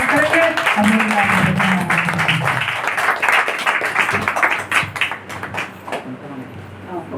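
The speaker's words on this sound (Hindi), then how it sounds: "जोरदार ताली बजा के हम परमेश्वर के दास का स्वागत करेंगे" Audience in a Mumbai church service clapping loudly to welcome the pastor, a dense steady wave of hand claps that thins into scattered claps toward the end, with a voice briefly heard early on.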